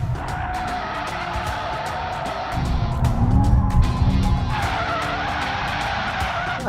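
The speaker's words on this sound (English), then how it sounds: "there's even a drift mode which you can engage, which decouples the front axle, so it then becomes rear-wheel drive" A BMW M5 Competition slides in rear-wheel-drive drift mode, its tyres squealing steadily over a rough engine roar, the screech swelling louder mid-slide before settling back, with no talking.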